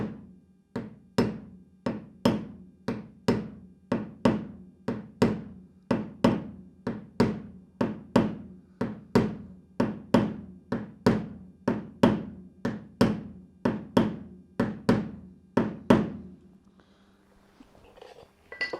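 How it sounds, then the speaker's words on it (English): A body hammer taps lightly on the door metal of a Porsche 911, around thirty evenly spaced, crisp strikes over about sixteen seconds, close and alone, each one ringing briefly before a quiet stop. "very carefully I just take my body hammer, and it's, you know, just a couple light taps"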